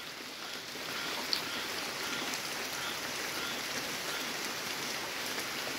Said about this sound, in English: Rain, a lot of rain.